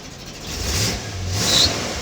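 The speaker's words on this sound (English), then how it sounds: "In order to start it, starts up like that every time, runs very nicely." A 1947 Chevrolet Fleetline with no choke fires up and its engine settles into a steady, rumbling run with a slight rise in revs, close and fairly loud.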